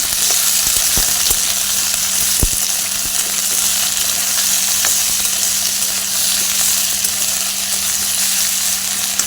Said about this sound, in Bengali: এবারে এগুলো ভেজে নিচ্ছি সব